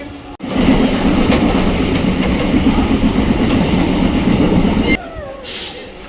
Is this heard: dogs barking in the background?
no